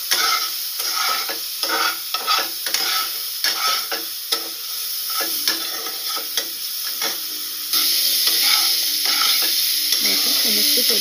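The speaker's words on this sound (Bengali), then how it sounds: "সমস্ত সবজিগুলো ভালো করে ভাজা হয়ে গেছে এবং সেদ্ধও হয়ে গেছে" Mixed vegetables for dalia fry in a pan with turmeric and salt, while a spatula scrapes and stirs in quick repeated strokes over a steady close sizzle, with no talking.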